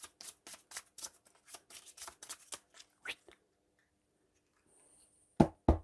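Playing cards for a Marvel Champions board game are gathered and riffled, a rapid run of close, crisp flicks for about three seconds, then near silence before two loud taps.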